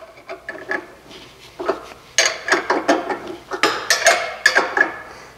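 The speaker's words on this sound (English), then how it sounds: "Tighten them down with a 15/16 wrench." Grade 8 bolts on dock leveler equipment are tightened with a 15/16 wrench, producing a series of sharp metallic clicks and clanks in uneven bursts, close and fairly loud.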